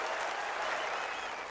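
A crowd applauds in the London 2012 skeet shooting video game, a dense, even wash of clapping that holds steady and loud throughout.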